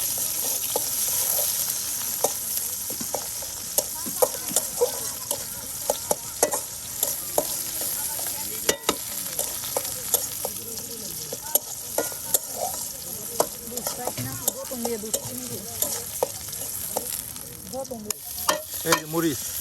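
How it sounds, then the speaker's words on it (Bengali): Onion, garlic and chili frying together in a pan by a riverbank, a continuous sizzle broken by frequent sharp scrapes and clinks of the stirring utensil, close and busy throughout. "এই যে মরিচ সব একবারে বাজা নেওয়া হচ্ছে"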